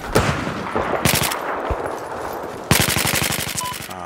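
Gunfire in the video game Battlefield 4, Conquest mode on Operation Firestorm, sounds as loud bursts of rapid automatic fire broken by short pauses, with a long rattling volley near the end.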